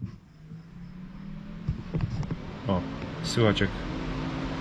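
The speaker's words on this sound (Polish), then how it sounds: "Poszedł wentylator" A radiator cooling fan on a VW Passat B7 2.0 TDI runs during a diagnostic test as a faint steady whir, with close mechanical clicks and someone speaking over it.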